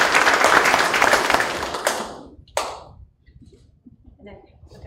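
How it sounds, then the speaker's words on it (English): Audience at a public school board meeting applauds, a dense round of clapping that tapers off by two seconds, one last clap, then quiet room noise and murmurs. "give her another round of applause"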